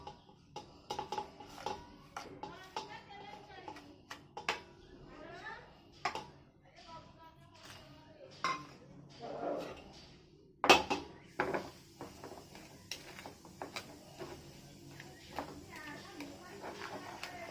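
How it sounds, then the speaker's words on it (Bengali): Yogurt, milk and sugar are whisked in a bowl until frothy, giving repeated clinking taps of utensil against bowl in an uneven rhythm, with a voice talking at times. "ভালো করে ফেনিয়ে নিতে হবে, যতটা পারবে 5-10 মিনিট করে এটাকে ফেনে নেব।"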